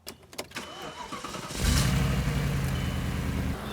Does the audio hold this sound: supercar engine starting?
yes